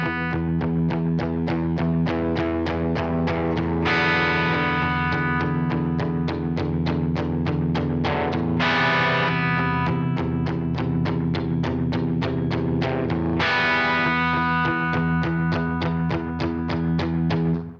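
An electric guitar playing the intro riff of a song with a distorted, effects-laden tone: a steady, driving stream of rapid picked notes over a low drone, with accented chord hits recurring every few seconds, loud and close.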